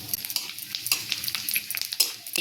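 Spices such as cinnamon and bay leaf sizzle in hot mustard oil with a bright crackling hiss, broken by quick stirring scrapes and clacks in an uneven rhythm, close up with no voices.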